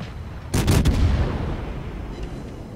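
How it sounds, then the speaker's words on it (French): Warship cannon fire in World of Warships starts with a sudden heavy boom and a quick cluster of shots, then a long rumbling decay. No one speaks. "un Monarque et un Charnors qui tirent plutôt bien dans ma direction"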